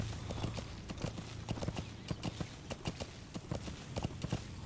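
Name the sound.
horse hooves clip-clopping in the video game Metal Gear Solid V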